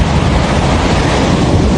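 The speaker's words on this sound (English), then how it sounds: "gale-force winds, and crashing waves" Gale-force wind roars over crashing sea waves in a dense, steady, loud wash of noise with no pauses or voices.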